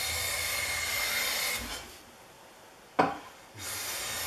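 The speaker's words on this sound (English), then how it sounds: "we got some nice shavings just rolling right out of the throat" A restored rare Brattleboro Steers Patent No. 303 hand plane shaves wood, a long close rasping stroke fading out, a pause with a sharp knock, then another rasping pass starting.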